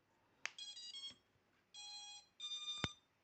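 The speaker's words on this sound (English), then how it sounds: "Okay, there we have the 5 beeps." Small drone motors sound a short series of high-pitched electronic tones as the battery is connected, three brief bursts of layered beeps with sharp clicks at the edges, faint and close, with no voices.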